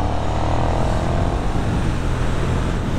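A 2020 KTM 1290 Super Duke R, a 180-horsepower naked motorcycle, ridden on the road near the speed limit on light throttle, its engine a steady low rumble mixed with wind roar.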